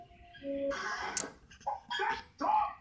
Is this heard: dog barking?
yes